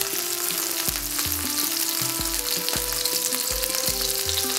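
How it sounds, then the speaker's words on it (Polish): A tablespoon of butter sizzles steadily in a frying pan, a continuous loud fizzing crackle with a few clinks of utensil against the pan, close and alone without talk. "Teraz na patelnię wędruje"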